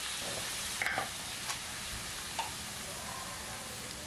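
Chopped tomatoes and ginger paste are stirred in a pan, a steady close sizzle with a few light taps and scrapes of the spoon against the pan, without talk.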